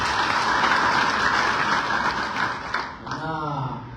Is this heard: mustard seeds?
no